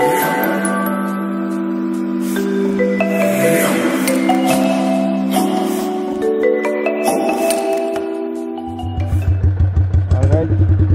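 Customised Royal Enfield Bobber motorcycle engine thumping into a steady, close pulsing idle near the end, after a stretch of music-like tones.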